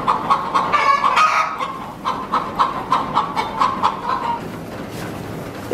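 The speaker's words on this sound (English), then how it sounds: "There's a chicken in the hay feeder." A chicken clucks repeatedly inside a hay feeder on a small dairy farm, a quick run of close, loud clucks that slow into evenly spaced calls before fading.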